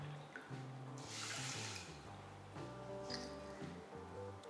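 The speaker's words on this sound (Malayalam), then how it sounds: "ഇതിലേക്ക് 1/4 കപ്പ് വെള്ളം ചേർക്കാം." Water from a tap pours steadily into a cooking pot of soaked green gram for a Kerala stir-fry. The stream runs close and continuous with no talking.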